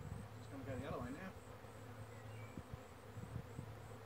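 Honeybees buzzing around a hive inside a wine barrel during a bee removal, a close steady drone with a pitch that rises and falls, mixed with a brief muffled voice and scattered knocks and handling noises.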